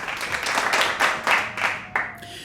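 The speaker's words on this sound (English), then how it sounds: "Should we put in some applause for that?" A short burst of audience applause greets a joke, scattered claps that build then thin out into a few final individual claps.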